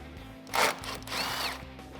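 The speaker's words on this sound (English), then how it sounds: "For the side, I'm going to use this extension and my 10mm socket" Socket wrench on an extension turning a 10mm bolt while installing headlights on a 2009-2014 Ford F150: two short, close scraping ratchet bursts over a low, steady hum.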